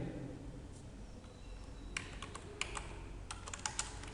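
Code being typed on a computer keyboard in a Java programming session, a steady run of quick, close key clicks with a few sharper taps, no voices.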